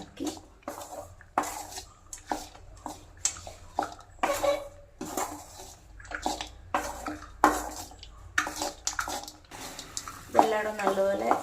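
Spoon scraping and stirring lemon rice in a pan over the flame, a run of irregular scrapes and clinks close by, with a brief rattle near the end.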